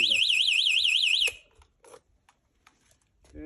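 An anti-theft alarm on a motocross bike wails with a fast warbling electronic siren for about a second before cutting off, followed by quiet handling noises and faint clicks.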